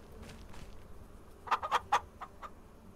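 Chickens in a farming video game cluck in a quick cluster of sharp, close calls, with a few fainter clucks trailing off over a soft background.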